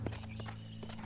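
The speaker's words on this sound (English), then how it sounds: "my masterfully trained horse unhitches itself and comes to me" Hooves of a trained horse in the Red Dead Redemption western video game, a brief soft clip-clop close by over a steady low game hum.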